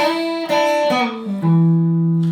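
An electric guitar plays a short riff, a few stepping notes that slide down and settle on a long, ringing low note, played alone.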